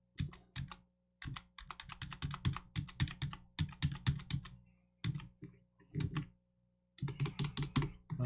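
Rapid bursts of computer keyboard typing, single-digit keystrokes clattering in quick clusters separated by short pauses, close and fairly clear with no talking.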